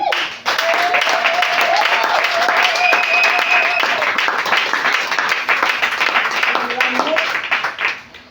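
A church congregation applauds to acclaim God at an Easter service, giving sustained loud clapping with voices and shouts mixed in, fading out near the end.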